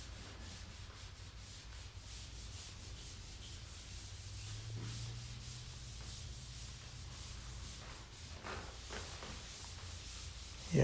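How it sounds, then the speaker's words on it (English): Steady rhythmic scraping of sandpaper rubbing by hand across a flat drywall surface, close up and continuous, with no talking. "I'm just rubbing off the debris of the drywall."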